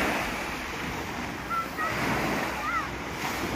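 Sea waves wash steadily onto the beach at Malajog, Samar, a continuous broad surf roar with some wind, while a person talks over it.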